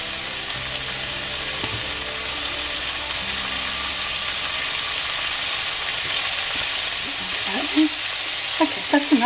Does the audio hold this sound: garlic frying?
yes